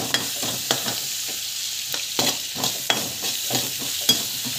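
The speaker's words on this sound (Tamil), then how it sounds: "சால்ட் வந்து ஆட் பண்ணி ஸோ நல்லா வந்து வதக்கி விட்டுக்கோங்க" Chana dal with asafoetida and salt being sautéed in a pan: a steady sizzle with repeated scraping stir strokes of the spoon against the pan, close and clear, no voices.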